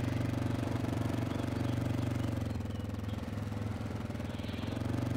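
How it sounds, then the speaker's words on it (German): Burbling, uneven engine of a vehicle in the game DayZ, its exhaust sounding broken, runs steadily and loud with a low knocking throb, alone for about five seconds. "Wie das Teil blubbert, hört sich das an, als ob der Auspuff kaputt ist"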